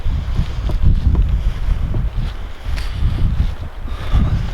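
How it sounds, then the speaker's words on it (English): Strong wind gusting hard across a point outdoors during an Oregon turkey hunt, a steady loud roar of buffeting microphone noise with surges and dips throughout, no voices over it. "the wind is whipping"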